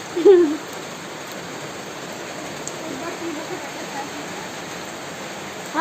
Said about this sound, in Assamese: শিল বৰষুণ দি দিছে একেবাৰে